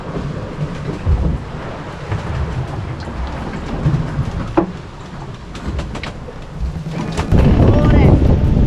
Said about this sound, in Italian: si sente il rumore dell'acqua, dello scorrere dell'acqua sullo scafo